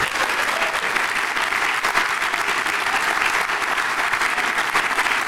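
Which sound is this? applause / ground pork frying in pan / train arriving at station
applause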